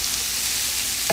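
Vegetables for a veggie wrap, seasoned with salt and pepper, fry in a pan. A steady, close sizzle runs throughout with no talking, ending in a brief stir or scrape.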